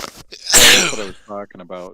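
A single loud, close sneeze bursts out, followed by someone speaking.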